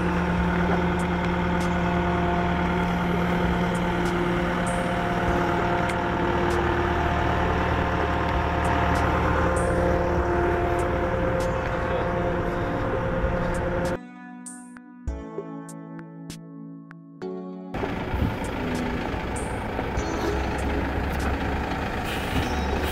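An 8-tonne truck crane on a KAMAZ chassis with a five-speed gearbox drives along, its steady engine drone loud and continuous, cutting out briefly near the middle before the rumble returns.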